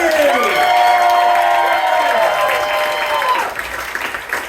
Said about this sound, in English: Give a round of applause for Dr. Lee!